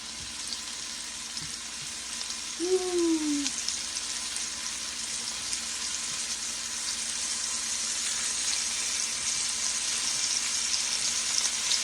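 Steady loud sizzling of meat browning in hot oil in a pot for a stew fills the whole stretch, with a brief whistling squeak early on.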